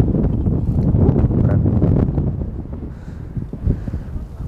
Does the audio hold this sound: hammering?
no